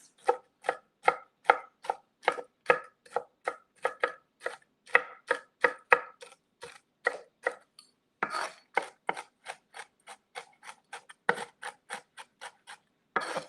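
A knife chops pecan halves on a board for a pecan cream pie in a steady run of crisp, close cuts, about two a second, with short pauses between bursts and no talking.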